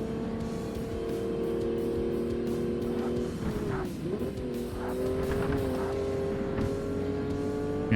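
Race cars in the Forza Motorsport video game, including Talons and an IS-300, accelerating on track: several engines whine and rise in pitch together, with a gear change midway, loud and steady.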